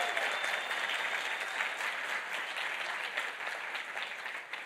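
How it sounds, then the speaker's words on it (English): A large crowd at a tech conference summit claps in steady, dense applause that stays level throughout, with a few scattered voices underneath. "Let's have a round of applause."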